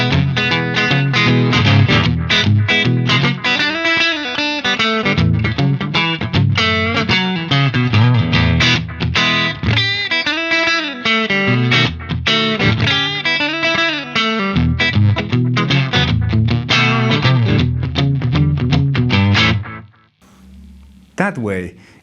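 Electric guitar played through a slapback echo from a delay pedal, with continuous distorted, effected notes and quick repeats over about twenty seconds before stopping abruptly.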